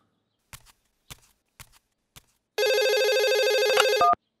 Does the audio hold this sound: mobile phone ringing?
yes